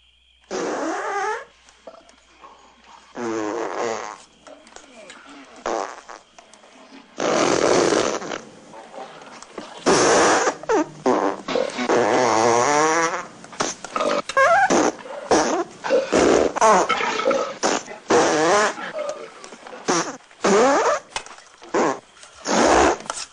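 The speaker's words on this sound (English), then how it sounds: "the first feature film to feature flatulence, leading to probably the funniest scene in the whole thing" A comedic flatulence scene from the film Blazing Saddles: a long run of fart noises, some drawn out and some short, stacked in fast irregular bursts with rumbling, buzzy textures and brief pauses between them.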